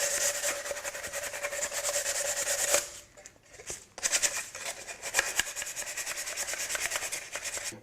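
Close, steady rasping strokes of hand sanding or filing round over the edges of a wooden raised-panel box, rhythmic back-and-forth rubbing with a brief pause midway before resuming, no voices.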